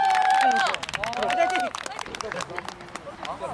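Applause and crowd noise at a middle school freshman welcome party with a singing contest, brisk clapping mingled with cheering and babble, loudest at first and then easing off as voices continue.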